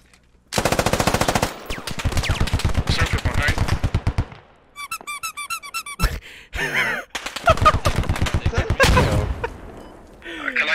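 Rapid automatic rifle fire from an AK in the tactical shooter game Squad, long sustained bursts broken by brief pauses, with squeaky metallic effects and a few booms, loud and close.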